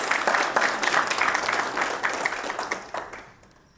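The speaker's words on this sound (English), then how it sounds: "A huge round of applause, please." Audience applauding to welcome the chairman and managing director of HYKON India Limited to the stage at an evening event in Thrissur; dense, steady clapping from a crowd that thins and fades out over the last second.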